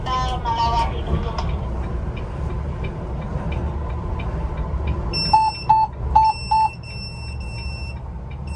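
A Volvo B11R double-decker bus's front proximity sensor alarm sounds four short, evenly spaced beeps over the low hum of the engine inside the cabin, with people talking earlier.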